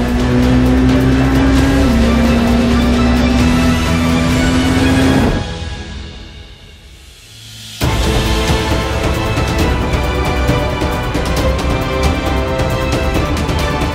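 A Porsche 919 Hybrid Evo race car roars past with a high, steady engine whine. It fades briefly to near quiet, then surges back loud and close, no voices present.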